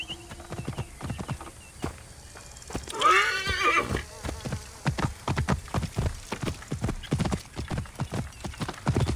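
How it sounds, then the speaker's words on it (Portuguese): A horse in Assassin's Creed Origins gallops with rhythmic hoofbeats and lets out a loud whinny partway through; the clopping continues steadily afterward. "Deixa eu chamar meu cavalinho."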